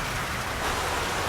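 Heavy rain pours down steadily, a dense close hiss of falling water with no break and no voices.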